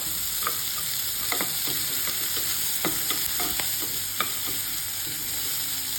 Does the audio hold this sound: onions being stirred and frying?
yes